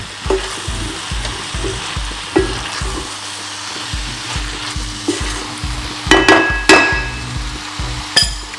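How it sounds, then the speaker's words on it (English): Eggplant sizzles steadily in a hot pan while being stirred, with a regular rhythm of scraping strokes and a few sharper clinks of the utensil against the pan near the end. "we're gonna keep stirring it for the next few minutes"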